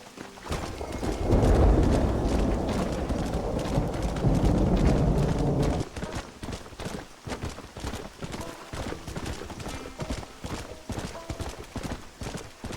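Hooves clip-clop in a steady trotting rhythm in the video game Red Dead Redemption, loud at first under a heavy rumbling wash, then clearer and more distinct for the rest.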